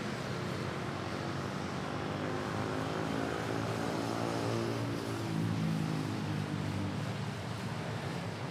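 Boeing 787 Dreamliner jet at Manila airport, a steady, loud broadband roar of jet engine noise that holds evenly throughout, with a low rumbling hum underneath and no voices.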